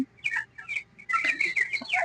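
Broiler chickens about twenty-five days old chirp and peep close by in a poultry shed, bright high calls in quick clusters over a short stretch.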